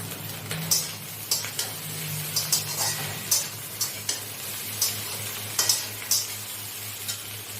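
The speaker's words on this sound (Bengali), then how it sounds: "ঢেঁড়সটা আমার হালকা হালকা ভাজা ভাজা হয়ে এসছে।" Okra fries in a pan with salt and green chillies. The sizzle is low and steady, and sharp scraping taps from stirring recur at irregular intervals. It is close, fairly quiet and has no voices.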